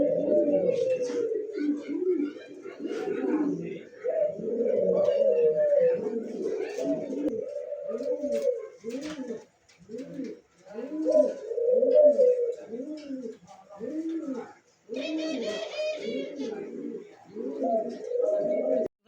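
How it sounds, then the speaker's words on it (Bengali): Black Nun pigeons in a cage cooing repeatedly, close and clear, in rolling bursts with short pauses across the whole stretch, with some faint chirps mixed in and no speech. "দর্শক দেখতেই পারেন যে কবুতরটা তার খাঁচায় কিন্তু ব্রিডিং করার জন্য এরকম করতেছে"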